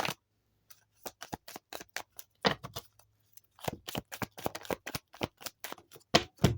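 Angel cards being shuffled up close, quiet crisp riffles and flicks in quick bursts with short pauses between them.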